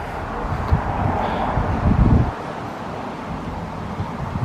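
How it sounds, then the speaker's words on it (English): Wind blows at sunset after a storm has passed, giving a steady, loud low rumble of buffeting against the microphone with a stronger gust midway, and no voices. "Now we have a bit of a wind, the remains of a storm that went by"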